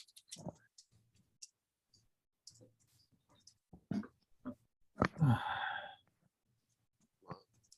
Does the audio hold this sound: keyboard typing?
yes